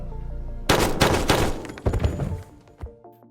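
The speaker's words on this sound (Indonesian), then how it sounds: "Lalu tewas oleh tembakan dari Nell" A rapid burst of loud gunshots rings out in a film, several sharp cracks in quick succession, followed by a few scattered thuds and a last lone shot.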